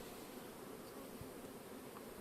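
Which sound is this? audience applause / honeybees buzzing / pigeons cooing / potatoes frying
honeybees buzzing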